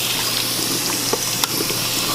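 Cold water runs steadily over a pressure cooker to cool it, a continuous splashing rush from a tap with a couple of brief clicks partway through.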